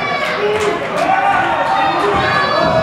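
Crowd at an independent wrestling tag team match, cheering and shouting in a steady roar close around the ring, with an excited commentator talking over the noise.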